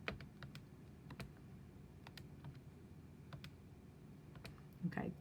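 Calculator keys pressed one after another as a fraction's numerator is entered, a run of light, close plastic clicks at an uneven typing pace over a quiet room hum.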